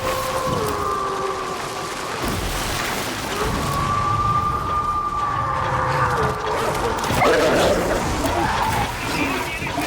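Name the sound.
dogs barking in video game Darktide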